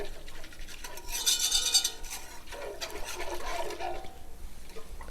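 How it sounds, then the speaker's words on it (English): Whisk stirring flour straight into milk and broth in a noodle-cooking pan, no roux, for a tuna noodle casserole cream sauce; a soft, steady scraping swish that grows busier for a few seconds, close and alone. "And we're just going to whisk it in."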